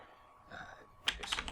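Fast keystrokes on a computer keyboard while writing code for a file, a quick close-up burst of clicks at the end after a moment of quiet.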